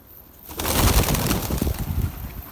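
A pigeon-like bird in a multiplayer video game, giving a burst of cooing and wing flapping that starts abruptly after a quiet moment and carries on close and fairly loud.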